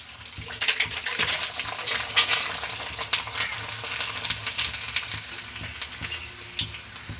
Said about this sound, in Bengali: আমার তেলটা রেডি হয়ে গেছে এবার আমি পাঁপড়টা ছাড়ছি দেখুন